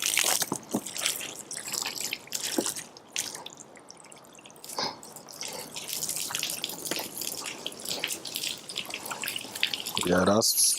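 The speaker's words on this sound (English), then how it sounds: "let's go ahead and do the water sheet test" Water sheeting off the Gyeon Wet Coat–coated paint of a 2017 C7 Corvette Stingray, a steady splashing hiss of running water with dripping and short bursts, close and fairly loud.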